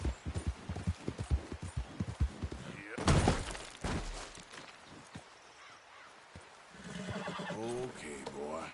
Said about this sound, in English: Careful. Get a hold of that horse, Morgan.